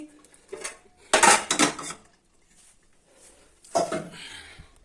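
Metal lid and cookware clatter close by as a pot of pongal is covered after the stove is turned off, with a couple of bursts of clanking and scraping separated by near silence.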